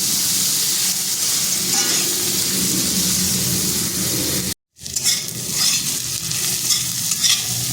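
Potatoes salted and frying in a pan until reddish-brown, a steady loud sizzle with stirring scrapes throughout, broken by a brief silent gap midway.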